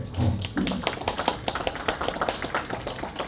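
Audience applause honouring a society's president and vice-president at a lecture in Mungyeong, a dense crowd of claps sustained for several seconds at steady loudness.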